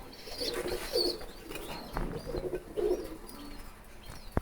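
Pigeons cooing nearby in a repeated soft, low, throaty rhythm, several calls rising and falling across a few seconds, with faint background noise and no talk.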